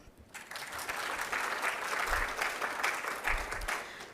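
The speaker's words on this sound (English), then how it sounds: "Some applause, please" Audience at the Africa Prize for Engineering Innovation final applauding before the first pitch, clapping that builds quickly from near silence into a steady, moderately distant wash lasting about four seconds.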